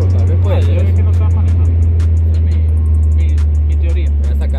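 Renault Clio Sport 172 hot hatch engine droning loud and steady at high revs near 7000 rpm, with faint mechanical clicks from gear changes and someone talking over it.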